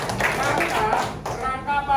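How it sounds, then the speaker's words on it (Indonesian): Schoolchildren in a classroom lesson clap together in a short, scattered burst of about two seconds, with voices mixed in. "tepuk tangan buat kita semua"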